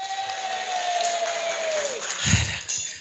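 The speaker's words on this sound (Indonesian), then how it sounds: "Boleh kita aplaus yang luar biasa buat Mas Taufik" An audience at a sales training seminar applauds for Mas Taufik with scattered clapping and crowd noise. A sliding electronic tone fades out early on, and a brief louder burst comes near the end.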